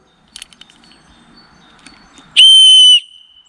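A single short, shrill whistle blast close by, lasting under a second, preceded by faint rattling and handling noises, the whistle being tested wet after a shovel destruction test.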